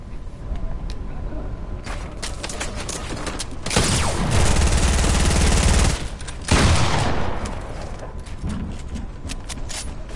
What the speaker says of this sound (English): Why'd y'all both shoot me?